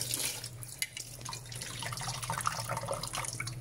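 A kitchen tap runs during dishwashing, a faint, steady splash of water into the sink with small drips heard close by.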